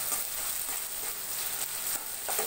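Ginger garlic paste frying with onions in a pan gives a steady, close hiss of sizzling oil with light stirring scrapes, with no voices throughout.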